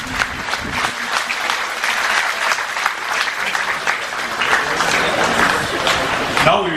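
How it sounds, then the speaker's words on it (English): An audience giving a second round of applause to a Buddhist dance troupe at a temple centenary celebration, sustained dense clapping that swells slightly toward the end, with some voices underneath. "Kindly give them a second round of applause"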